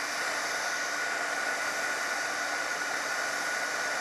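A heat embossing tool blows hot air in a steady, continuous hiss and whir, close and unbroken, with no voices.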